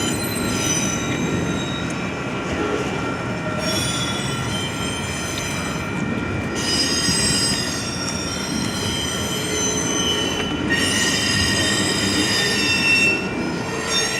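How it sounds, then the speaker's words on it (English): A Union Pacific manifest freight train rolls steadily through a rail yard nearby, its wheels squealing in repeated high-pitched bursts over a continuous rumble of passing cars, with no talk. "there's a train right down here"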